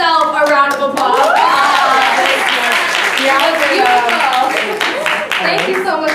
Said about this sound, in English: that deserves itself a round of applause